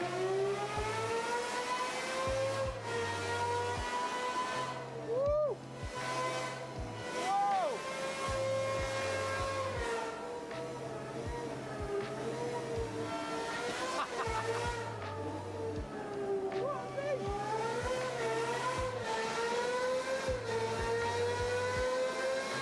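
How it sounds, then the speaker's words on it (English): A naturally aspirated V12 running on a dyno through a simulated Silverstone lap, its high-pitched wail rising and falling with repeated gear shifts and throttle lifts, loud and continuous throughout, with a low pulsing hum underneath. "Literally sounds like a Formula One car from the early 2000s."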